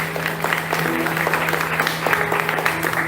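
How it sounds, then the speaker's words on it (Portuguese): Applause from a church congregation at an anniversary service at a Methodist church, steady dense clapping filling the room throughout with a low hum underneath. "Você pode aplaudir o nome do Senhor."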